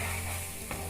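Masala sizzling and being stirred in a frying pan for mutton gravy, a steady close hiss with a brief scrape partway through.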